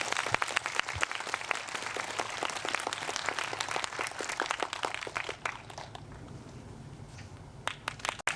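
Audience at a high school literary evening applauds warmly for a student poetry reading, a dense patter of clapping that gradually thins and fades, leaving a few scattered claps near the end.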